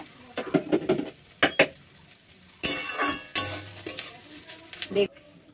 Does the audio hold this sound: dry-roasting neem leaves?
yes